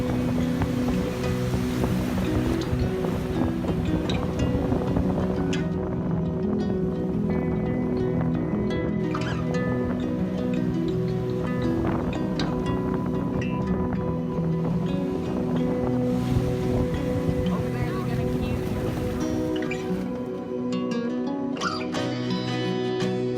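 Ocean waves wash steadily at Surfrider Beach, a continuous loud surf roar mixed with buffeting wind noise on the microphone, with no voices.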